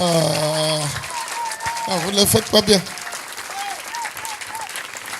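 A church congregation at a Sunday service claps in a burst of applause, mixed with a preacher's voice speaking over and after it.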